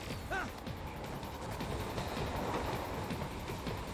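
A train rumbles along with rolling clatter and metallic clanks in the video game Metal Gear Rising: Revengeance, a dense continuous mechanical din with a brief creak near the start.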